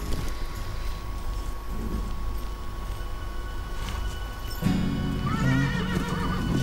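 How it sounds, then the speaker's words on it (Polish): Horses neigh and whinny in the Western video game Call of Juarez 2, loud and close, over a steady bed of clip-clopping hooves and outdoor ambience. "Tych koni to coraz więcej."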